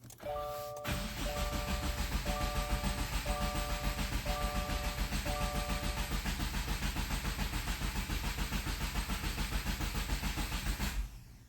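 A 2024 Subaru WRX engine turns over in its slow oil-priming cycle at roughly 100 RPM, making a long, even, pulsing churn with repeated warning chimes at the start, then stopping abruptly.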